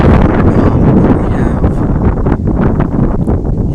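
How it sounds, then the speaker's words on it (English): Outdoor wind buffets the microphone in a steady, loud, low rush that swells and dips slightly throughout. No voices are heard over it. "I think the wind is actually putting some force on this thing."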